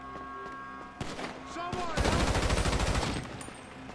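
Gunfire breaks out in GTA 5, a sharp shot near one second followed by a dense two-second burst of rapid shots amid game sounds, with voices talking in the background.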